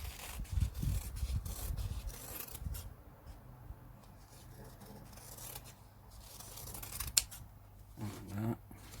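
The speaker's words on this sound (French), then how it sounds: "je vais venir couper un petit peu en arrondi" Scissors cut a rounded shape for a round scrapbooking box, with soft rubbing and snipping close by and faint murmuring underneath.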